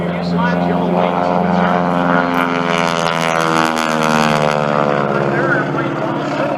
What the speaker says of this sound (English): As we watch that Stearman just do a double roll right down our show line